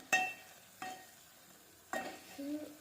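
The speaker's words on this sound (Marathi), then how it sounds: "याला चांगलं परतायचं याला तेल सुटेपर्यंत मस्त परतायचं" Masala sautéing in oil in a pan for bazaar-style amti, heard as a few separate close scrapes and stirs over a faint sizzle, with quiet gaps in between and no talk.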